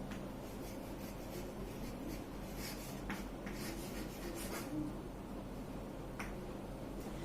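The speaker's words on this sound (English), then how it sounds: "Let me just write this." A hand writes out a maths definition, likely on a board or paper during a classroom lesson, giving soft scratchy strokes in short bursts with small pauses, faint and close against steady room hiss with no voice.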